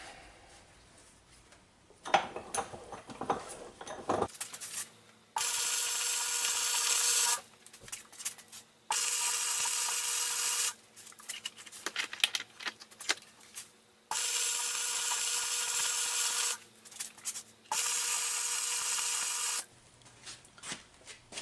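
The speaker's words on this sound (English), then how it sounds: "Now I'll finish welding this up. Welding that key to the hub. Grind it down, make it look real pretty." Grinding on a steel key welded to a transaxle hub, with bursts of harsh high-pitched grinding lasting a couple of seconds each, alternating with quieter scraping and clanking between passes.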